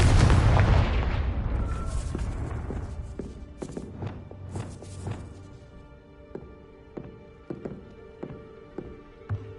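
A fiery Confringo spell blast in Hogwarts Legacy, a loud booming explosion at the start that rolls and decays, followed by a series of lighter rhythmic thuds like footsteps and debris settling.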